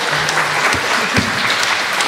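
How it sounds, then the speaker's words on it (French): At a live podcast recording, a room of listeners applauds the game players, a close, steady burst of clapping throughout with a few low voices murmuring beneath it. "vous pouvez les applaudir"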